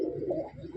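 Pigeons in a loft at Park Circus, a soft close coo lasting under a second and rising and falling gently over low, breathy murmuring.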